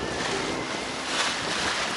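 Strong wind rushes steadily past a heeling sailing yacht on open sea, a dense, unbroken roar of wind and water noise with slight swells in intensity, close and loud with no voices.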